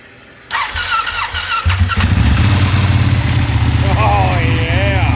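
A 2016 Ducati 1299 Panigale S motorcycle cranks with a whirring starter, then fires into a loud, lumpy, close-up idle that holds steady, with voices exclaiming over the engine.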